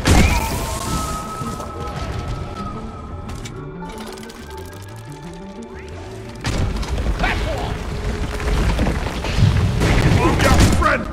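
Gunfire in Deep Rock Galactic: rapid mechanical bursts and booms, loud at the start, quieter through the middle, then heavy again toward the end, with voices speaking over parts of it.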